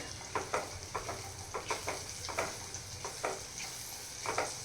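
Fried tomato and onion with turmeric, garam masala and red chilli powder are stirred in a pan for dhaba-style garlic methi, with a spoon scraping in repeated quick strokes over a soft steady sizzle.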